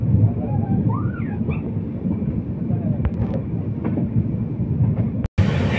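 Dharmavaram Express passenger train pulling out of Machilipatnam, a steady loud rumble of wheels and carriages with wind buffeting, a few faint squeals above and a brief dropout near the end.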